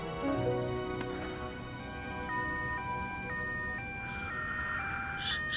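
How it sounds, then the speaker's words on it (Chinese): An ambulance siren wails through its tones at a moderate distance, rising and stepping between pitches, with a brief sharp knock near the start and faint background hum. "怎么会有救护车的声音呢？"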